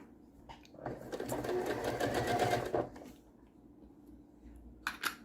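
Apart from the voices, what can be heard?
sewing machine stitching quilt seams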